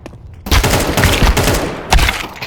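Rapid gunfire bursts in a first-person shooter video game, loud and dense after a brief quiet start, with a sharper burst near the end.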